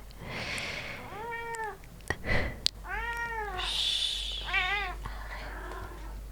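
A cat meows close by in a quiet indoor room, three drawn-out calls spaced over several seconds, with a soft whisper and faint rustling between them.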